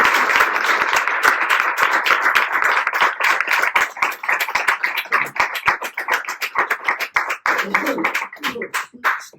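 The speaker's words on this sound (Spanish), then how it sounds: "Un aplauso, ¿eh?" Audience applause from a gathering, close, lively clapping that gradually breaks into uneven individual claps while voices chatter in the background near the end.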